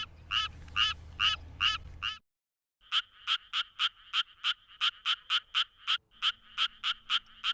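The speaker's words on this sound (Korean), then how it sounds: "청개구리는 좀 더 빠르고 낮은 소리를 낸다." A tree frog gives rapid, evenly spaced croaking calls in close-up bursts, pausing briefly before resuming the quick, regular series.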